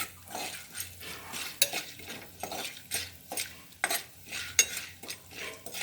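Moong beans with salt and turmeric stirred in a pressure cooker: close, rhythmic scraping strokes of a spoon against metal, repeating in quick bursts over a soft frying sizzle, with no voices.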